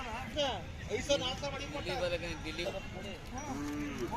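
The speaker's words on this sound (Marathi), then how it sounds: "सुंदर आखीव देखना काजळी खिल्लार सारखा मोठ्या मापाचा बैल आहे." A large, dark-eyed Khillar bull gives a few low, drawn-out moos with wavering pitch, heard at moderate distance and fairly quiet.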